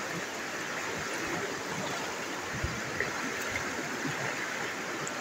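Shallow stream water in Kibanban, Balingasag, Misamis Oriental, flowing with a gentle current, a continuous close hiss of rippling water with faint trickles and small splashes.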